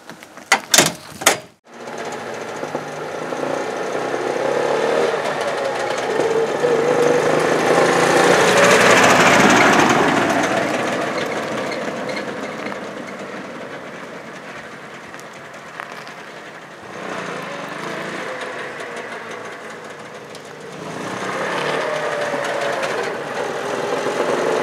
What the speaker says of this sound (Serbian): jedna kraća test vožnja, buka od dvotaknog motora